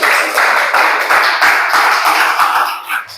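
A classroom full of students claps for Ardi, Rifki and Gabriel, a steady, loud patter of many hands lasting about three seconds and tapering slightly at the end.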